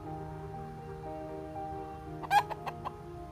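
Chickens on alert at nearby skunks let out a short burst of sharp clucks and squawks near the end, after a quiet stretch with a low background hum.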